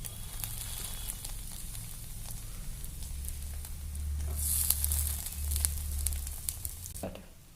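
Corn cheese discs sizzle in butter on a hot tawa, a steady close crackling fry with faint popping over a low background hum.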